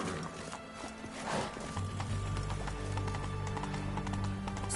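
A horse gallops in the video game The Witcher 3, its hoofbeats a quick, rhythmic clip-clop that grows steadier and fuller after the first couple of seconds, set against a low rumbling background.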